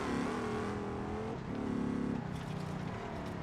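A second-generation truck accelerates hard on a freeway in BeamNG.drive, its engine revving up through a gear change, then climbing again, loud and close.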